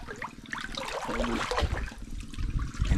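Water sloshes and splashes in a swimming pool during a car camping trip in the Philippines, with irregular nearby splashes and churning that are moderately loud and continuous. No one talks.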